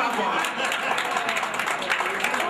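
Audience at an entrepreneurship development workshop applauding a participant, a short burst of dense, steady clapping from a crowd in a room, with a faint murmur of voices beneath.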